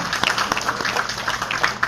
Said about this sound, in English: a round of applause for Mrs. Claudia Smith